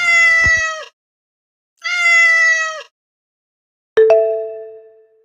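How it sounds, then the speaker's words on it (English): Two clear, loud cat meows in a row, each drawn out and tonal, with a short pause between them, followed by a bright chime-like ding. "This is cat."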